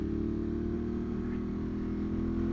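Ducati Monster 821 Dark motorcycle engine droning steadily while riding, a continuous low rumble with strong harmonic tones, loud and close throughout with no talk.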